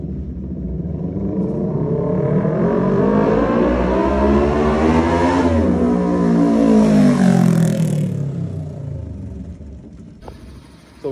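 Kawasaki Ninja 650 superbike revving up near a canal, a loud steady engine roar that climbs and falls in pitch over about ten seconds, with other bikes lined up nearby, before dropping off at the end.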